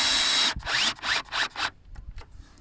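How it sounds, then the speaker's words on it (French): Parts of a Velux roof window cover being screwed together into pre-drilled holes, a close series of four or five rasping, ratcheting bursts of a screw being driven. The bursts trail off into quieter clicks and handling noises, with no talk. "On vient tout visser ensemble dans le petit trou en fait qui est déjà pré-percé"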